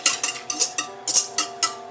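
Focaccia dough with yeast and olive oil mixed in a bowl, giving about eight quick, bright clinks in an uneven rhythm, close and clear with no talk.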